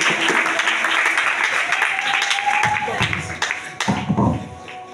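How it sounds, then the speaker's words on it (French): Congregation applauding inside a church during a celebration, a loud burst of many hands clapping that thins out toward the end, with a few sharp taps and a held tone underneath. "Acclamons pour notre enfant."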